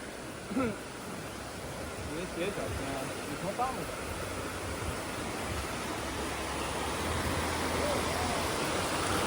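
Fairly large ocean waves at a Boracay Island beach in the Philippines, a continuous broad surf wash that swells slightly louder toward the end, with people talking intermittently over it.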